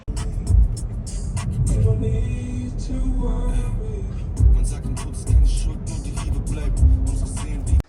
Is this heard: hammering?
no